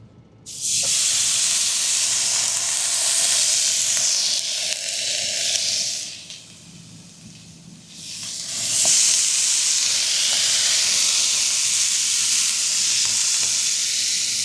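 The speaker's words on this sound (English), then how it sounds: "So let's see if we can get a good sear for you." Pork belly sizzles loudly while searing in a hot skillet, a close, steady frying hiss that dips for a couple of seconds midway, probably as the meat is pressed down, then returns at full strength.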